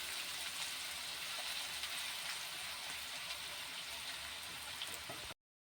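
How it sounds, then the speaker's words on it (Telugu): Sliced onions fry in a pan until browning, a continuous dense sizzle and crackle, fairly quiet and even throughout before cutting off abruptly. "ఆనియన్స్ మంచిగా ఫ్రై అయ్యాయి కదా,"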